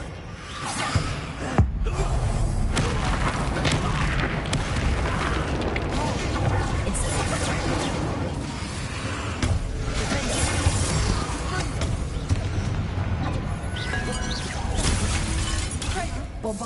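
A Bombarda spell explodes and shatters debris in the video game Hogwarts Legacy, with a loud blast at the start and a dense, sustained crashing roar, and game music or effects running continuously beneath it.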